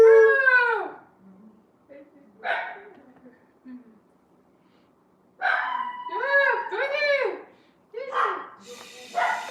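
A dog howls in drawn-out, wavering wails, with one long howl at the start and a shorter one soon after, then a quiet gap before a run of several close howls near the end.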